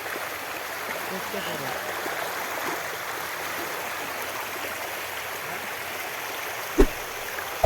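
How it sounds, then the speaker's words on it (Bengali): Floodwater rushing steadily past at Ghai Shivanagar, a continuous broadband torrent that stays loud and even throughout, with a couple of brief knocks near the end. "জলের স্পিড চেক করতে পারো আমার পিছনে দেখতে পারো বন্ধুরা কত জল হয়েছে"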